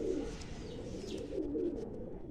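An ice pigeon coos close by in a loft, a steady run of low, throaty coos rolling on without a break and no voices over them.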